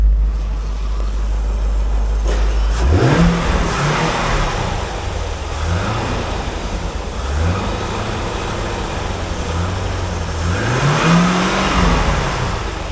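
A 2001 Chevrolet Corvette C5 with an LS1 engine revs up repeatedly in strong surges, the pitch climbing and falling with each press, loud and steady throughout with no talk.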